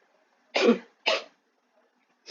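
Two sharp coughs in quick succession, fairly close and loud, followed by a third starting at the very end; otherwise quiet.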